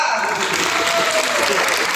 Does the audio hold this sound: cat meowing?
no